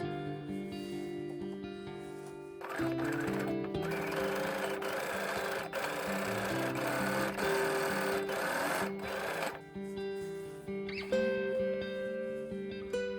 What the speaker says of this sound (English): And sew with a zigzag stitch.